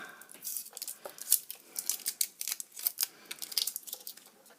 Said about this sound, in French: vous pouvez enlever votre scotch